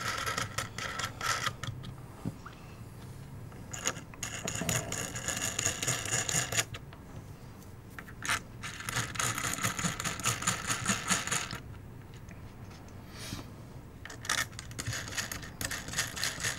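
Small metal standoff posts for a BitFenix Portal mini-ITX case, one side rubber-tipped, threaded into place by hand, giving soft scraping, clicking and ticking handling noises with short pauses between turns, close and fairly quiet with no talk.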